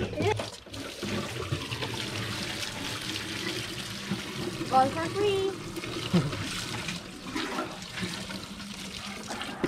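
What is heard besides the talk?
running water at a washing spot near a river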